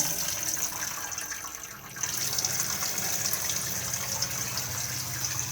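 A 12-volt water pump in a 2020 Elddis Majestic 185 motorhome running while water flows, a steady hissing gush with a constant high whine, briefly dipping before resuming at an even level, with no talking.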